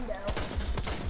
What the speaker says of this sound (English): So you shoot in the window.